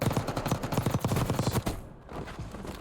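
Rapid bursts from the Jackal submachine gun in Warzone, a dense rattle of close, loud shots over about a second and a half, then quieter background rumble.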